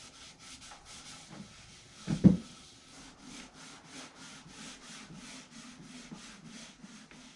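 A Scotch-Brite pad rubs finish into an old painted wooden desk, a soft continuous scrubbing texture in steady strokes throughout, with one brief louder bump near the middle and no talking.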